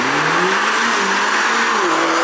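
A Mercedes-AMG A45 S launches hard using race start, its engine roaring loud and close with a rising pitch through the revs and a brief shift dip near the end.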